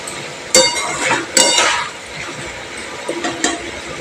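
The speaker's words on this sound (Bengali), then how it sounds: "একটু ভালো করে নেড়ে নিচ্ছি" Elephant foot yam (ol) curry stirred in a pot, a few loud scrapes and clinks of the spoon against the pot over a soft background hiss.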